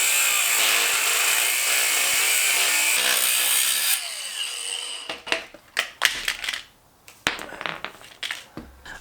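A power tool saws through a car steering wheel to remove its center piece, giving a steady loud cutting whine for about four seconds, then a run of separate short rasping cuts and bursts.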